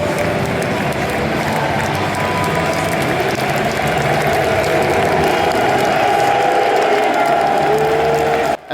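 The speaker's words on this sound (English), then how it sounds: "they stayed to applaud their team after the final whistle" Football crowd at an FA Cup match applauding their team after the final whistle, a steady roar of clapping and crowd noise that continues throughout and cuts off abruptly at the end.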